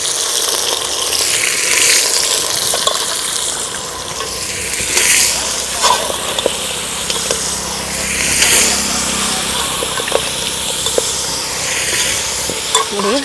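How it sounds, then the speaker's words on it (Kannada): Mutton frying in melting butter for a butter mutton sambar gives a loud, steady sizzle with occasional clatters of stirring throughout, and no talking. "ಬೆಣ್ಣೆ ಕರಗ್ತಾ ಇದೆ ಹಾಗೆಯೇ"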